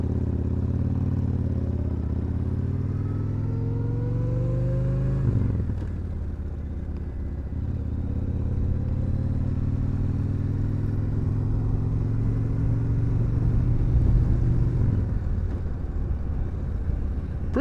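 Motorcycle engine droning steadily while riding, low and loud throughout, with a few rising revs as gears are run up, a brief drop near the middle, then steady cruising hum.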